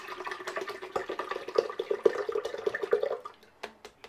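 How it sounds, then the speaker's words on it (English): Sixteen ounces of water poured into a blender, a soft splashing gurgle lasting a few seconds, faint and close, then trailing off into drips. "So we dump 16 ounces of water in there."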